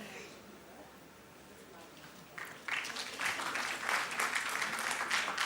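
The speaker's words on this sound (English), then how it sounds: "of course, with a round of applause." Audience applause breaks out about midway and builds to a steady, fairly loud clatter of clapping, welcoming panelists at an art programme launch at Kempegowda International Airport, Bengaluru.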